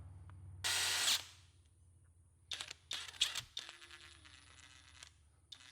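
A cordless power drill whirs in a loud half-second burst, then runs in several shorter, uneven trigger-modulated spurts with clicks and handling noise, in a quiet workshop.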